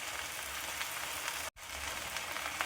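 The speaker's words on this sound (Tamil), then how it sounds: "இது நம்ம நல்லா எண்ணெயில் சுருண்டு நல்லா அந்த பிசு தன்மை வெளியில் வர வரைக்கும் வதக்கணும்" Okra sautés in hot oil in a pan with a steady, even sizzle that cuts out for an instant midway, then resumes.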